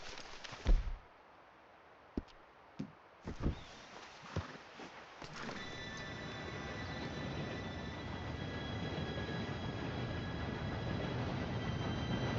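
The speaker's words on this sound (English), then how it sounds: "Train should be here any minute now." In Red Dead Redemption 2, a few scattered clicks and knocks give way to a steady low rumble of a train drawing nearer, growing gradually louder with faint high tonal squeals.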